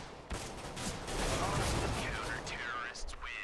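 Rapid gunfire from Counter-Strike: Global Offensive crackles in dense bursts, loud and continuous, while players talk over it.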